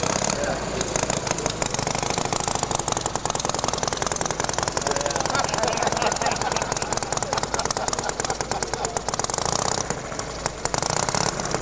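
A rough, loud engine idles steadily with heavily retarded ignition timing, giving a choppy, uneven beat, running continuously throughout with no other sounds on top.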